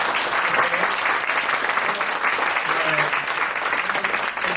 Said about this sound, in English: So give Eva Chang another big round of applause